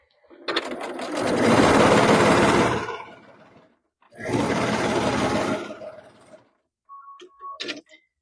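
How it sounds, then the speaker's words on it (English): A sewing machine stitches quilt block pieces together in two long, steady bursts of whirring, followed by a short pause and a few quieter, brief clicks and whirs near the end. "So let's just sew these together."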